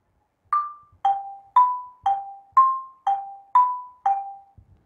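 Eight evenly spaced wooden bar notes on an Orff xylophone, each struck clearly and ringing briefly, alternating between a few nearby pitches in a short repeating melody with no talk.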